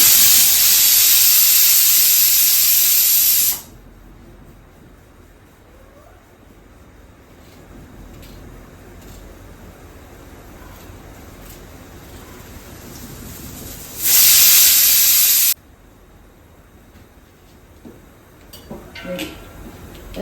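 A kitchen pressure cooker vents steam in two loud hissing bursts, a long one at the start and a shorter one later, with quieter gaps between them and some light clattering near the end.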